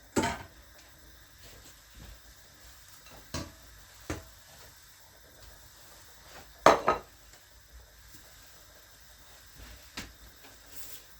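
Dumplings stirred in a pot, with scattered clinks and scrapes of a utensil against the pot at irregular intervals, faint and close with no talking.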